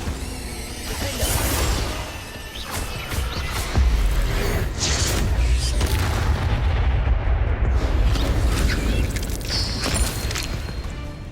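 Confringo blasting-spell explosions in the video game Hogwarts Legacy, a dense run of booms and heavy blasts with rumbling impacts, loud and continuous across the clip.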